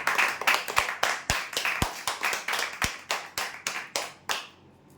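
A group claps warmly for the first winner of a weekly prize draw, a dense, even run of handclaps with a few sharper nearby claps, carrying on for several seconds and then fading out.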